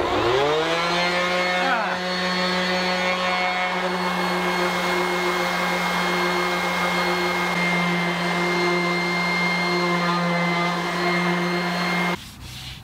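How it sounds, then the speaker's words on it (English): Sanding the wood of a broken guitar with a power sander: a loud, steady whining drone with a strong tonal hum that runs continuously for about twelve seconds, then cuts off abruptly near the end. "And now we're just gonna jump right into sanding."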